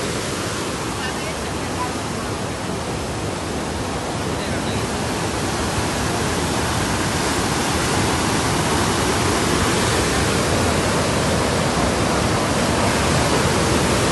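Randha waterfall at Bhandardara, two streams joining and plunging from a great height during heavy monsoon flow, roars as a loud, unbroken wash of noise that grows slightly stronger over time.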